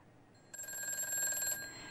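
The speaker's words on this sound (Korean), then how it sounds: "이어서 다음 전화 연결해 보도록 하겠습니다" A telephone rings once as a call connects on a stock-trading call-in broadcast: a bright, steady electronic tone lasting about a second, rising out of near silence and then stopping.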